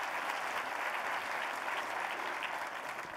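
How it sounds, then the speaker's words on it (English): An audience applauds for a city mayor at an Amazon advertising keynote, a steady dense wash of clapping, fairly quiet and distant, with no voices over it. "Let's give the mayor another round of applause"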